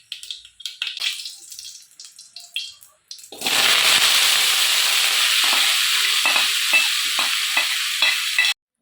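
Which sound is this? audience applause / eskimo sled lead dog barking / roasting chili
roasting chili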